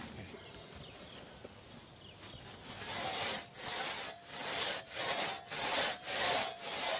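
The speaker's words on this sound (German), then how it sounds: "Eine sogenannte Trummsäge, wie sie früher von Waldarbeitern benutzt wurde." A 1.5-metre two-man crosscut saw, a traditional forestry tool, cutting through a tree trunk, starting faintly and then settling into loud, rhythmic back-and-forth rasping strokes about every half second, close by.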